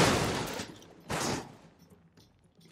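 Heavy booming cannon blasts in Horizon Forbidden West, one strong burst at the start and another about a second later, each trailing off into a rumbling decay.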